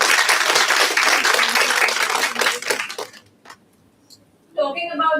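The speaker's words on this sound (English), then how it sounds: "Can we have a huge round of applause?" An audience claps at a meet-the-author event for a constitutional law writer, a dense round of applause lasting about three seconds before fading out, then a voice begins talking.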